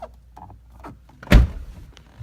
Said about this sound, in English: I'm gonna open the driver door just to get the light to come on.